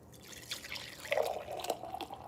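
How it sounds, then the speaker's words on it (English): Juice pours into glasses from a jar in a short, close liquid stream with gurgling drips and a rising fill tone, and no voices. "I'm going to begin to pour them up into the glasses"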